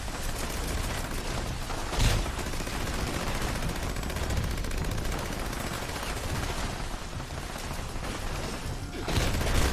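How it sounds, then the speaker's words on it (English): Dense, continuous enemy gunfire in the video game Fallout 76, with rapid overlapping shots and bursts filling the whole stretch, loud and close, and a few heavier impacts standing out. "The solo's so much harder with all the enemies shooting just you."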